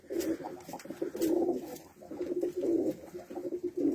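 Several pigeons coo in repeated, low rolling phrases close by, with brief pauses between calls and no talking.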